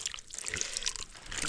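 Spring water at a village drinking spot between Hile and Majuwa in Nepal trickles and splashes steadily. The flow is close, continuous and moderately loud, with no voices.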